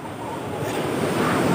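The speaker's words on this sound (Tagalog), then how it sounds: "yung malalaking alon, sasabayan mo" Big ocean waves surging near the shore, a loud rising wash of surf building over the moment, with wind buffeting the microphone.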